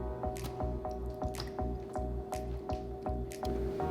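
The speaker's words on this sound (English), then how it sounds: "So you're just gonna start with a scoop of meat sauce." Meat sauce made with ground beef is scooped and dropped into a baking pan, giving a run of wet, squishy plops and drips at a steady pace over a constant musical bed.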